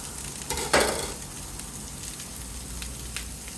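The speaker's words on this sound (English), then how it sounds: "putting down some peanut oil and some onions. Gonna let them saute up a bit." Onions sizzle in peanut oil on a Blackstone flat-top griddle, a steady close frying hiss with a brief louder burst as they hit the hot surface, and no talking.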